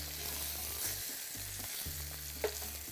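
Quails browning in a hot pan, a constant bright sizzle with a low humming drone underneath that cuts in and out, plus a single utensil tap near the end.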